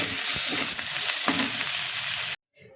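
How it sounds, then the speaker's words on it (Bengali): Fish frying in a pan, heard as a loud, continuous hiss and crackle of sizzling that cuts off abruptly near the end, leaving a faint tail. "তাহলে মাছটা ভাজি হতে লাগুক"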